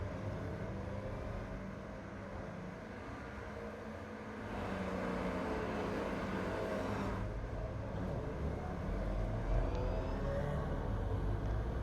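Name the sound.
race cars driving on track in iRacing video game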